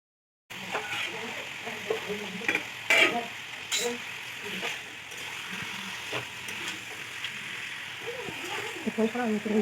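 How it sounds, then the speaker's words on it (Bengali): Rooster chicken pieces frying in a pan with spice paste while being stirred; a moderate sizzle with spoon scrapes and clatter runs under a person talking. "এবার এর মধ্যে দিয়ে দিচ্ছি মাংসগুলো মাংসটাকে একটু সময় ধরে কষাতে হবে"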